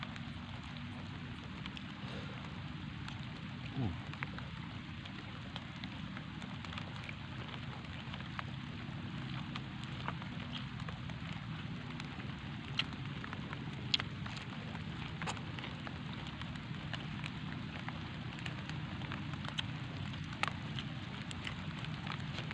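Steady rain falls outdoors in a broad, even hiss with scattered sharper drops striking a surface, continuous and fairly close, with no voices.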